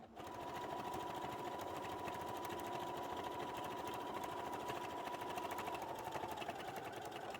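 A sewing machine runs steadily for several seconds, stitching along the edge of a fabric pochete bag, with a continuous close mechanical whir and buzz and no talking.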